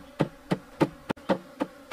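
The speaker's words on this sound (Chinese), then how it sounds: "然后我们敲这个箱子" A wooden beehive box holding a wild honeybee colony, set as a bait hive under fruit trees in spring, is knocked in a steady rhythm of about seven evenly spaced, close, dull thumps with no voices.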